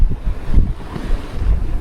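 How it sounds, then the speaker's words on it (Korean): Steady wind buffets a sailing yacht at sea in northern European waters, a loud, gusting roar with waves washing underneath and no voices. "괜찮은 바람이 불어주고 있어요"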